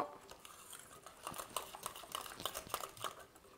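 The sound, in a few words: whisking chocolate cake batter in a bowl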